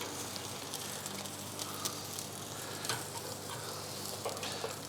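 Chicken thighs crisp skin-side down in a hot pan with a steady, close sizzle and scattered small pops and crackles throughout; no one speaks.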